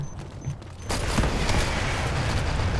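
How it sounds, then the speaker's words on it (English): Airstrike explosions in the online shooter Dirty Bomb erupt into a dense, loud rumble of blasts and gunfire that keeps going to the end, after a quieter stretch of scattered shots at the start. "And that was an airstrike."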